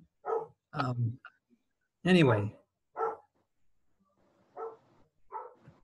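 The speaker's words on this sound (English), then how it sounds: "because I have a German Shepherd dog, she has to announce they're coming every single time." A German Shepherd dog barks several times at a moderate distance, loud single woofs with gaps between them, with a person speaking briefly in between.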